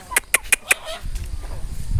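A hill chicken gives four quick, evenly spaced clucks up close, followed by a faint low rustling.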